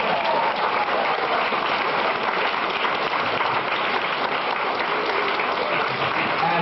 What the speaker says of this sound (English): How about a round of applause for Gorbachev?